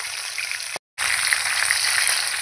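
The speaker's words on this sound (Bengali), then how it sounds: "মাথাটা ভাজা হতে থাক।" A fish head frying in hot oil for a light fish curry gives a steady, close, dense sizzling hiss that cuts out completely for a moment near the middle, then resumes.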